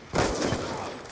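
Burst of submachine gun fire in a video game, a sudden loud rattling volley that starts sharply and sustains for about a second.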